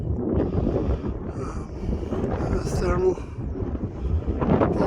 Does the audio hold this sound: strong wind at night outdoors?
yes